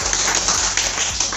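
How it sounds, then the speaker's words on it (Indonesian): An audience claps for the Nagaya digital currency at an Indonesian presentation: dense, steady applause from many hands, filling the whole moment at an even level with no talk over it. "Tepuk tangan dulu dong untuk Nagaya."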